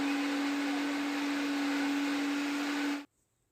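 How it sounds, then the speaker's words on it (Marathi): Mixer grinder blending a paste of garlic, ginger, green chilli and coriander with a little water: a loud, steady motor whine runs alone for about three seconds, then cuts off abruptly. "याला मिक्सरच्या जारमध्ये घालायचं थोडं पाणी घालायचं आहे आणि बारीक फाईन पेस्ट तयार करायची आहे"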